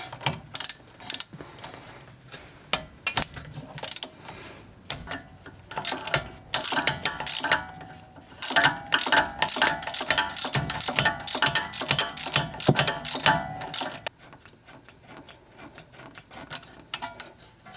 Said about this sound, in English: I'm just using a regular 13mm socket with the extension bar on my 3/8 ratchet, and I'm just gonna twist this off this way.